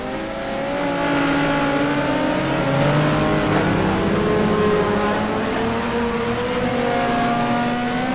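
Several race car engines in a sim racing endurance event at Spa, an Aston Martin among them, drone and whine steadily with overlapping pitch sweeps as they accelerate and shift, continuous and fairly loud throughout.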